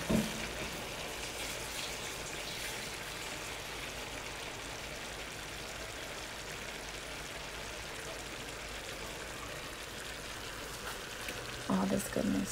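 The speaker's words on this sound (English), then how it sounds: "Look at all this simmering." Mayi moulin, a Haitian cornmeal dish with salted codfish, simmers and bubbles in a pot, giving a steady, close, crackly sizzle like light rain that runs throughout with little change.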